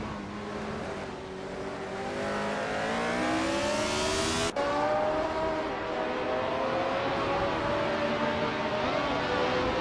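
A Wolf Williams FW05 race car in a racing video game screams at high revs, its engine pitch climbing steadily through the gears with a sharp shift midway, loud and continuous with no talk.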